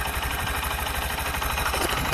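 A 2025 SP 125 facelift motorcycle engine idles close to the microphone, a smooth, steady, even low throb with a soft mechanical hum and no other sounds.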